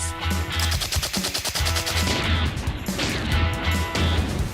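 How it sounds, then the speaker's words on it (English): A full magazine fired from a WWII-era gun, sounding as a loud, rapid automatic burst of sharp shots in quick succession that continues for several seconds, with reverberant echo and no talk. "I've always wanted to do a full mag with one of these."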